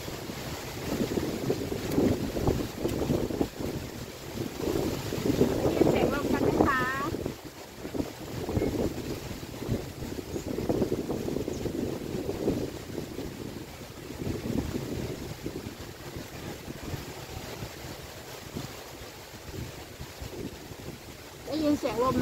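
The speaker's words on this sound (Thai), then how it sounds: "ได้ยินเสียงลมไหมคะ" Strong, gusty outdoor wind buffets the microphone in uneven surges while seedlings are being planted ahead of coming rain, with someone talking intermittently throughout.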